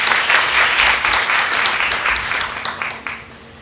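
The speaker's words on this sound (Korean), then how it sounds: "우리 박수 한번 주세요." An audience applauds steadily for several seconds at a Korean gathering, the dense clapping near and full before thinning and fading toward the end.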